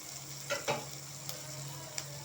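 Ingredients including curry leaves sauté in a pan for roadside kadai kalan, a steady low sizzle with a few sharp clicks and stirring taps scattered through it.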